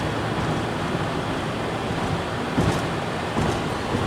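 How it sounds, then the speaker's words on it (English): Steady, heavy rumbling roar of a passing loaded coal train in South Dakota, a continuous broadband wash of rail noise with faint clanks, fairly close and unbroken throughout. "It's another train."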